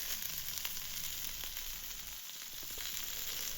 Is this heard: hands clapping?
no